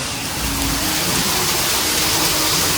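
Dense, continuous hiss of heavy rain pouring down in Surat, loud and even throughout with no voices.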